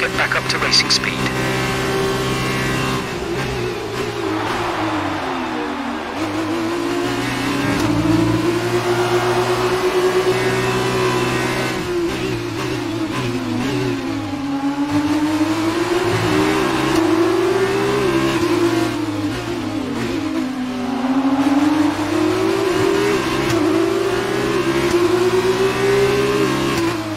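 An F1 car in the F1 2019 game on the Baku street circuit drones steadily, its engine pitch climbing repeatedly through gears as it accelerates back to racing speed, loud and continuous throughout.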